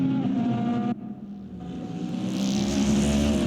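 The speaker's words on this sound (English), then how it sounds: "the Lexus and the Ford Mustang GT3 both seem to be the greatest cars here on track, the fastest cars" GT3 race cars, including a Lexus and a Ford Mustang, roar along a straightaway at Bahrain. Loud engine notes rise in pitch as the cars pass close by, with a brief dip partway through.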